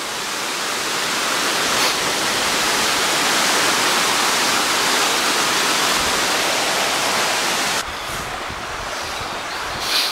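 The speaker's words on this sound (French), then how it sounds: "Là on est au sommet de la cascade." A waterfall heard from its top edge, a dense, constant roar of rushing water that fills the whole scene, loud and unbroken, with a slight drop in level near the end.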